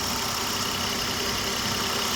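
The engine of a 2005 Ford Five Hundred runs smoothly at idle, a steady, even hum that carries on unbroken and fairly quiet.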